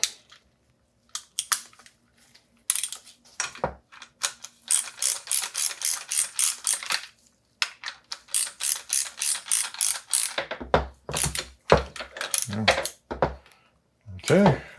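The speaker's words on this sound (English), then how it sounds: "Grab your ratchet." A ratchet clicks rapidly in bursts while tightening during a Rockshox 35 Silver TK bike fork service, close and crisp, with pauses between strokes and a few louder handling knocks near the end.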